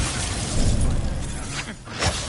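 A Petrificus Totalis spell cast in a wizarding video game gives a loud shattering, crackling burst of magic effects that swells and dips, with a sharp rush near the end.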